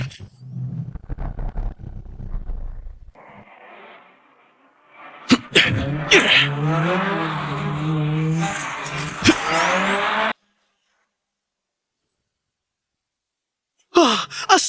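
A race car drifts through a corner during a race. A low engine rumble comes first, then a loud, close burst of revving and screeching tires lasts about five seconds and cuts off sharply, followed by silence and a short final burst.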